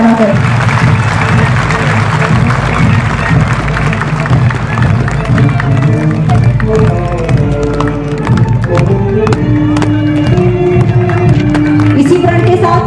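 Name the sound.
audience applause after a women's marching performance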